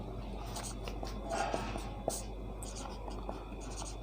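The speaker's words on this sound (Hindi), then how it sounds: "चलिए लिखते हैं" Pen on paper writing out a class 8 maths solution to a linear equation, soft continuous scratching strokes with faint taps, quiet and close over a low steady background hum.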